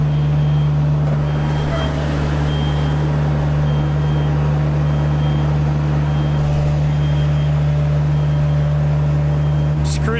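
A scissor lift driving inside a shop emits a regular reversing beep pulsing about every second over a loud, steady motor hum, close by and continuous throughout.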